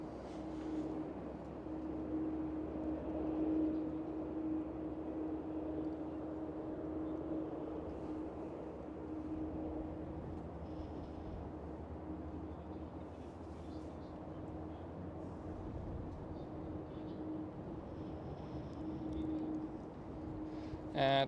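A British Airways Boeing 787-10 in 100 years livery at Amsterdam Schiphol airport gives off a faint, distant, steady jet roar that lasts throughout with little change.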